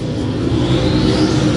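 A stock car in an A and B Mods race roars down the front straightaway, its mid-pitched engine revving hard and steady with a rising whine, loud and continuous with no voices.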